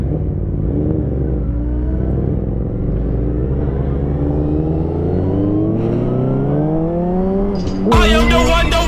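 A vehicle engine revs hard during a wheelie, rising in pitch over several seconds. The pitch climbs again sharply near the end in a loud surge.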